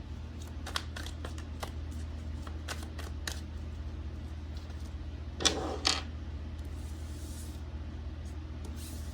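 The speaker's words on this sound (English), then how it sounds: "I'm thinking we're just going to pull some cards." Tarot or oracle cards being shuffled for a card reading, soft riffling bursts through the first few seconds and a couple of louder shuffles later, close by over a steady low hum, with no voices.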